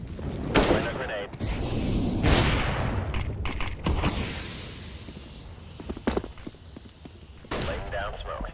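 A grenade goes off during a Counter-Strike Wingman match: sharp booming bursts and gunfire crack through the game audio, with a voice talking over the action.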